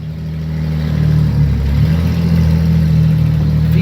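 A neglected Chrysler Pacifica minivan's engine revs hard while it reverses, a loud, close, rough drone that builds and then holds steady with some mechanical clatter.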